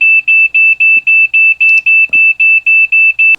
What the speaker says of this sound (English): It will also vibrate, and it will also give an audible alarm.